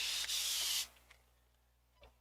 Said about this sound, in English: One squeeze gives you a continuous spray for quite some time.